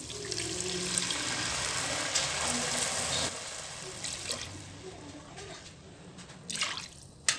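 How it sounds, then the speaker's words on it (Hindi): Water pours steadily into a cooking pot for fish curry with a continuous splashing rush for several seconds, then thins to a few trickles and a final clatter. "इसमें हम डालेंगे पानी"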